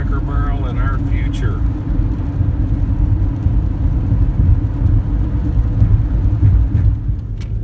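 A car drives along a road, heard from inside the cabin as a steady low rumble and road hum, with people talking over it.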